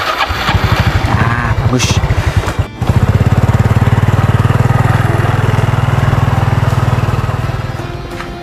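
Motorcycle engine sputtering and choking as it fails to start, loud and close: a short burst of rapid pops, a brief cut-out, then several seconds of ragged chugging that fades at the end, with a voice speaking briefly.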